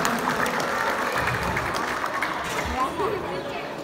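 An audience applauds a preschool education center director at a ceremony, a burst of crowd clapping mixed with murmuring voices that slowly eases toward the end.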